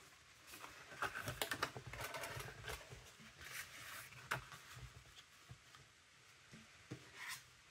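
Scissors cutting paper during a scrapbooking project, a series of faint dry snips and rustles in an irregular rhythm, quiet and close with no talking.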